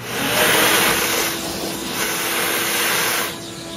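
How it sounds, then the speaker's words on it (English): A vacuum cleaner runs loudly and steadily close by, cleaning residue from a Tesla charger cable's broken pin, its whine and rushing airflow shifting slightly in pitch as it works. "Go ahead, vacuum."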